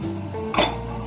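A spoon scrapes and clinks once against a pot of arroz caldo, the Filipino chicken rice porridge, a single close metallic knock over a low steady hum.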